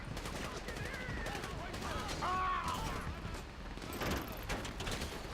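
Rapid bursts of gunfire in GTA 5 crackle repeatedly over a dense, noisy background, with voices talking underneath throughout.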